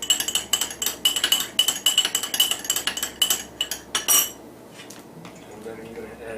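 Benzyl benzoate lotion, freshly gone milky, is stirred in a container with a utensil: quick rhythmic clinks and scrapes against the sides for about four seconds, then the stirring stops and only faint room noise is left.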